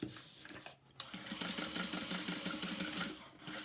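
A sewing machine stitches slowly through an all-vinyl tote, its motor humming with a fast, even needle patter after a short pause, close and steady, with bobbin thread running low.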